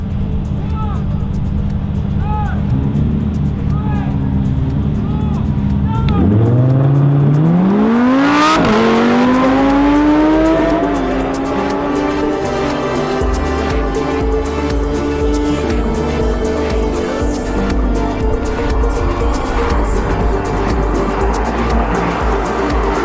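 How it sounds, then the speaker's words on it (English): A Lamborghini Performante Spider, Aventador SV, Ferrari 812 Superfast and McLaren 720S race, with engines revving up in rising, shifting whines and a loud roar that continues under music. "Performante Spider, Aventador SV, Ferrari 812 Superfast, McLaren 720S."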